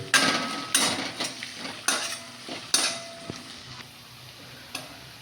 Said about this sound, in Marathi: आपण आता जिंजर गार्लिक पेस्ट टाकून घेऊयात. आणि हा चांगला वास जास्तवर परतून घेऊया.